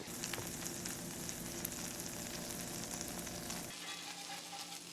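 A grilled cheese sandwich sizzles steadily in a pan, a continuous crackling fry that runs close and even before the lower part of the sizzle drops away near the end, leaving a thinner hiss.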